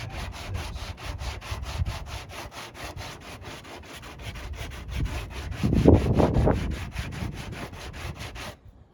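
Fiberglass on a Corvette body is sanded by hand in steady, rhythmic back-and-forth rasping strokes, close and fairly loud, the scrubbing growing heavier for a moment before it stops.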